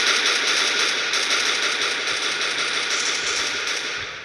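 Rapid, continuous gunfire in a Resident Evil–style Umbrella recruitment video game match, a loud unbroken burst of shots lasting several seconds.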